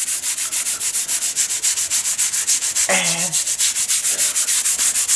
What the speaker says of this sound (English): I'll scrub it now and see how it looks